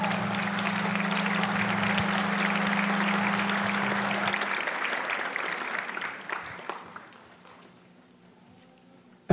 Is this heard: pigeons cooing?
no